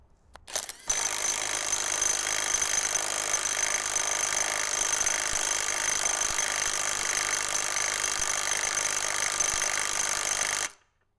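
An Ingco cordless impact wrench fastens a nut in one steady, loud, continuous high-pitched hammering burst lasting about ten seconds, close to the microphone, with no talking.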